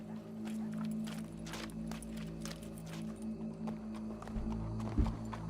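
Horse hooves clip-clopping closer in Red Dead Redemption 2, a steady walking rhythm of hoofbeats over a low ambient game soundscape, with a heavier thump near the end.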